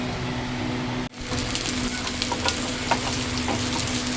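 Onions sautéing in a pan with a dense, even sizzle and stirring scrapes, close and fairly loud, broken by one brief drop in sound near the start, no voices heard.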